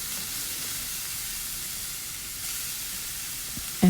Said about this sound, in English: I'm returning the meat back to the pan